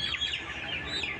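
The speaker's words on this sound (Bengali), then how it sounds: "এই সাইডে অনেক মুরগি, সব ভ্যাকসিনকৃত মুরগি" Layer chickens being vaccinated against fowl pox cluck and chirp together in a pen, a busy overlapping chatter at moderate distance with no talk.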